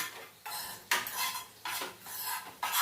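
A spoon scrapes and stirs fish chilli curry in a hot metal pan, giving repeated rasping strokes in an uneven rhythm, close and fairly loud, with no voices.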